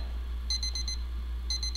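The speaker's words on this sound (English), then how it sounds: "has a beeping noise." Two short bursts of rapid electronic beeps from an alarm clock with no ringing bell, four quick tones then a second group, loud and close over a steady low hum.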